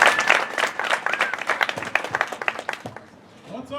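Audience at a university comedy club open mic applauds and cheers to welcome a local touring comedian to the stage, a dense burst of clapping with scattered whoops that thins toward the end.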